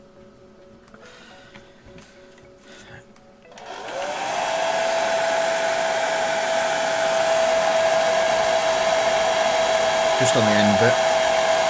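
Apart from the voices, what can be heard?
hair dryer blowing on model kit paint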